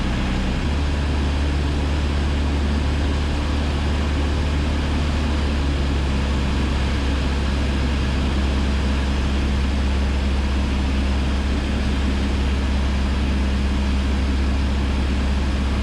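A Cessna 172 single-engine propeller airplane holding 1900 RPM with flaps at 10 on an instrument approach, a loud, steady droning engine hum filling the cabin throughout with no talking.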